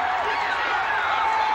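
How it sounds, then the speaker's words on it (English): Football crowd at a night game roaring and cheering after a blocked field goal attempt, a dense, steady wall of voices that stays loud throughout. "the crowd explodes to its feet"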